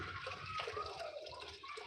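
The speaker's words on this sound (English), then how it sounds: "pour it through a filter, whatever you got to do" Used engine coolant drained from a boosted VR6 is poured and strained through a filter, a steady close liquid trickle and splash with a few brief drips, continuous throughout and without any voices.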